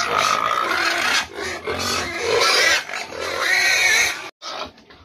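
Backyard pig grunting and snorting almost continuously at close range, a rough raspy sound in steady bursts with brief pauses.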